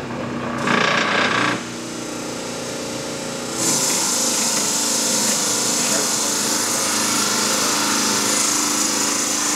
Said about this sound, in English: as I'm doing this, I didn't do a very good job of sharpening because only one side of the forester bit's actually cutting right now